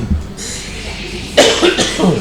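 A person coughs a couple of times close up, harsh bursts in quick succession following a brief quiet stretch.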